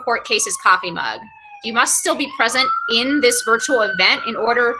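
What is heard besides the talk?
siren outside a window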